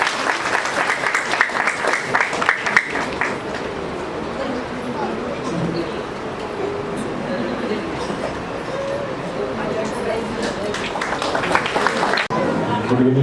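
Sustained applause from an audience at a railway loco pilot's retirement function, dense clapping running the full length with crowd chatter mixed in, a sharper burst at the start and again near the end.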